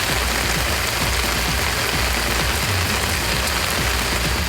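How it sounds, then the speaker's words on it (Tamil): Heavy rain pouring down during a wet-weather spell in Tiruvarur district, Tamil Nadu, a dense, steady wash of noise that holds at full strength for the whole stretch with no voices. "திருவாரூர் மாவட்டத்தில் காலை முதல் விட்டுவிட்டு கனமழை பெய்த நிலையில் இரவிலும் மழை வெளுத்து வாங்கியது."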